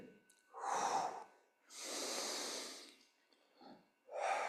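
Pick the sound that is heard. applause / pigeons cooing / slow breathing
slow breathing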